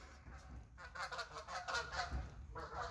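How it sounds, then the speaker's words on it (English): Several geese honk as they pass overhead, a steady run of nasal calls lasting the whole stretch, moderately close and clear with no talking over them. "A couple geese just flew overhead."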